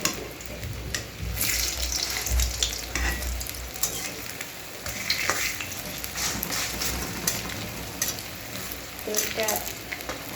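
Pumpkin leaf fritters sizzle steadily in hot oil in a pan, a close crackling hiss with occasional scraping and stirring clinks as pieces are turned.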